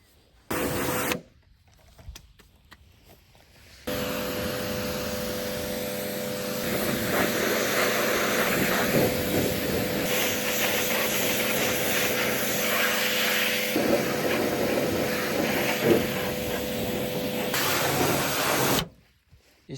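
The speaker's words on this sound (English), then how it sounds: "Even though this pressure washer doesn't have much power, it does the job for now." A low-power pressure washer blasts caked mud off a ZIL 131 Russian army truck, a steady, loud motor drone with a constant whine. It starts after a few quieter seconds, runs unbroken, then cuts off abruptly near the end, with no talking.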